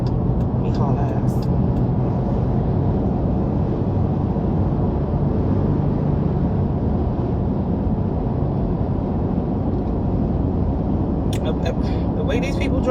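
A car speeds along a highway toward Atlanta, heard from inside as a loud, unbroken road-and-engine roar with heavy low rumble that holds steady the whole time.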